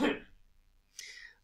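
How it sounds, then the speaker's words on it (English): A short, rough throat clearing up close, followed by a softer breathy rasp after a brief pause. "let me clear my throat."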